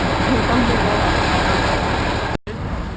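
A train locomotive repositioning on the line at Hajnówka gives a steady, loud low rumble and mechanical drone that continues throughout, briefly cut off near the end.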